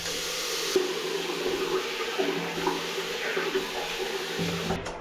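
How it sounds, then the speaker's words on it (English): Running water while washing shampoo out of hair, a steady close splashing flow lasting throughout with faint shifts as the stream is disturbed. "now I'm gonna wash this shit out"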